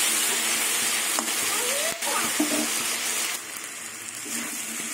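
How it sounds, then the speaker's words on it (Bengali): Ginger, garlic and green chilli paste with tomato sautéing in a pan, making a dense, steady sizzle up close with a few faint stirring knocks, and no talking. "আবার কিছুক্ষণ কষিয়ে নেব।"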